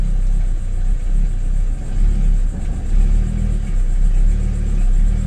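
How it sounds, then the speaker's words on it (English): A car engine runs roughly with a fault, a low steady rumble with small surges and dips in level, heard close and alone without talk. "the car is running terrible. Something's definitely wrong with it."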